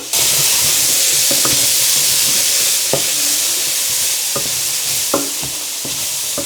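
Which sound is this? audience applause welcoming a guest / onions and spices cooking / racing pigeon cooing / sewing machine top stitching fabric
onions and spices cooking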